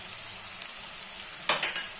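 Salted potato mix for mutton frying in a pan, a steady close hiss of sizzling oil with a short clatter of stirring midway, no voices.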